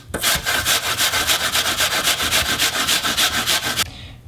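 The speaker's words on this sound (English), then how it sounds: "And then we're gonna grate this apple." An apple scraped back and forth on a metal grater, a loud, close, rapid rhythm of rasping strokes running steadily for almost four seconds before stopping abruptly, with no voices.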